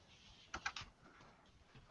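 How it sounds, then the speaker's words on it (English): A short burst of typing on a computer keyboard while looking up Rotten Tomatoes, with a few quick clustered keystrokes near the middle, then quiet room tone. "I start typing in Rotten Tomatoes"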